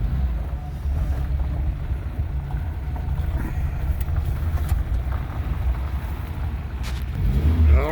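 A 1993 CMC Veryca Japanese kei micro van drives along, its small engine giving a steady low rumble and road drone that continues without break, swelling slightly near the end.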